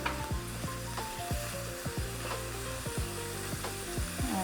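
Mushrooms sizzling in a hot frying pan, a steady crackling fry with repeated sharp scraping strokes as they are stirred, close and fairly loud with no talking.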